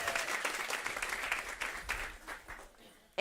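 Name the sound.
audience applause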